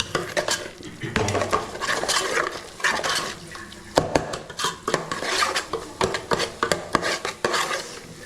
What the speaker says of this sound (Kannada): ಮಿಕ್ಸ್ ಮಾಡ್ಕೊಳ್ತಿದ್ದೀವಿ ನೋಡಿ.